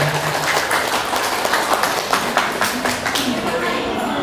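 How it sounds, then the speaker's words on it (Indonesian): A crowd claps in scattered, uneven applause, fairly close, while someone keeps talking over it. "Tepuk tangannya ya, silakan."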